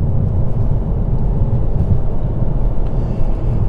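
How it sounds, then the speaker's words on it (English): Ford Focus Estate with a three-cylinder engine accelerating hard after a downshift, giving a steady, loud low-pitched growl that fills the cabin with no talk over it. "I always talk about the three-cylinder thrum, but this has got a three-cylinder growl."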